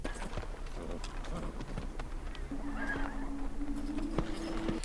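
Horse hooves pound in a fast gallop amid film battle noise from Gladiator (2000), a thudding rhythm mixed with whinnies and a sustained tone, with people talking faintly in the background.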